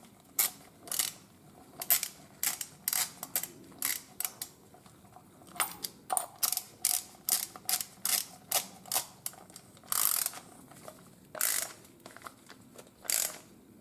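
Ratchet wrench tightening a nut on a plastic John Deere fuel filter housing, a close run of crisp, evenly repeated clicking strokes with short pauses between sets.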